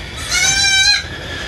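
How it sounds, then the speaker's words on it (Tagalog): Goats on a storm-damaged goat farm let out one drawn-out bleat, nasal and wavering, fairly close and clear over quiet background. "ito po yung ating mga kambing"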